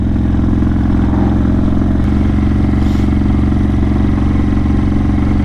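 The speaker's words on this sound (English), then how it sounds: "This bike sounds so aggressive though." A motorcycle ridden at night gives a loud, close, steady engine drone with a deep throbbing pulse, holding an even pitch throughout with no talking.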